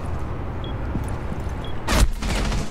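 A single loud, sharp gunshot rings out in a tactical shooter game near the end of a moment of quiet ambient background.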